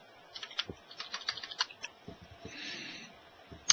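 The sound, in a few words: typing a server URL on a computer keyboard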